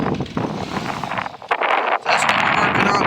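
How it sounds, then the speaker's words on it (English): Gusty wind buffets a microphone outdoors at a fence-building site, a loud continuous rumbling roar with brief dips and surges, and no voices over it. "Oh, sorry about the wind."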